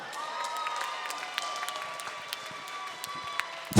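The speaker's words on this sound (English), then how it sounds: "round of applause for both fighters" Crowd applause for both fighters at the end of a three-round Phoenix FN27 MMA bout, a sustained wash of clapping at moderate level throughout, with a louder burst at the very end.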